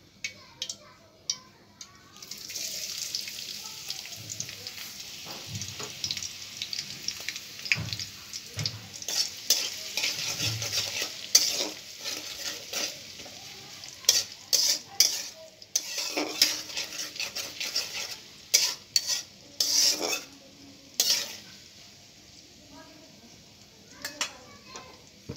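Onions fry in hot mustard oil with a soft sizzle underneath, broken by frequent clinks and scrapes of a utensil against the pot as they are stirred, the clatter irregular and close.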